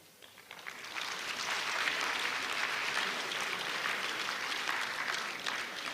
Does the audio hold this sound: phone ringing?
no